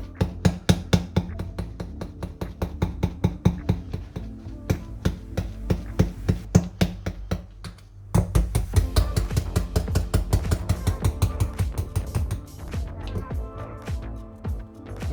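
Cooked potatoes are crushed with a whisk for butter mashed potatoes. The result is a rapid run of sharp, close, rhythmic thuds and clacks against the pot, with a short pause midway before the steady mashing resumes.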